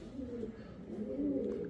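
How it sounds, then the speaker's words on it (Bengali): A male racer pigeon coos in soft, low, rolling phrases close by, continuous through the moment with no talk over it. "রেসার কবুতর"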